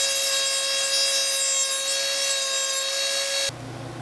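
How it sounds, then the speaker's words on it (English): A Dremel cutoff wheel slices through a metal lightsaber escutcheon with a steady, piercing high whine that holds for about three and a half seconds, then cuts off abruptly, leaving a low hum. "take your Dremel cutoff tool and cut just above the line and deburr both edges of your escutcheon."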